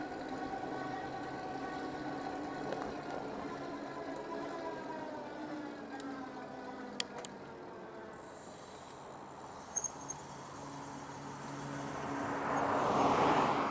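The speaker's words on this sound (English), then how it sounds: "there's another car coming." A car drives toward the rider along a road beside an e-bike trail, its engine hum and tire noise swelling louder over the last few seconds under steady wind and road noise, with no talking.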